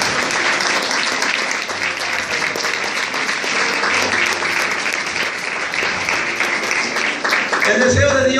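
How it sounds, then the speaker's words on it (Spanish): A church congregation clapping together during a sermon, a dense, steady wash of hands filling the room for several seconds, with voices mixed into the crowd noise. "Denle palmas al Señor de gloria."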